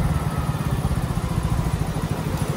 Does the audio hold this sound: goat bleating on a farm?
no